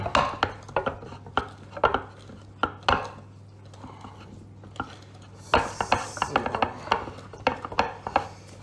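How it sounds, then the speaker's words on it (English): Coconut and pineapple cake batter is worked by hand with a utensil in a bowl, making a run of irregular scraping and knocking strokes, close and fairly quiet, with a pause midway before the strokes pick up again. "So now a bit of elbow grease to get this all nicely mixed up"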